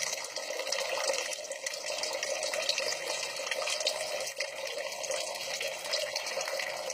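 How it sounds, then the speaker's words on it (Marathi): Water pours steadily out of a pot that keeps draining until empty, a continuous even splashing stream with no pauses and no voices. "आता पूर्ण भांड रिकामं होईल तोपर्यंत हे सगळं पाणी आहे तसंच पडत राहील."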